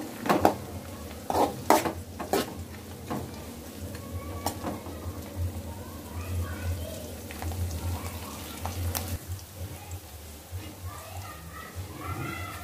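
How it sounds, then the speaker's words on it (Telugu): Poha upma with peanuts being stirred in a pan, giving irregular scraping and clinking of a spoon against the metal over a steady low hum, with some voices and background noise in the room. "Okasari kalpukundamandi"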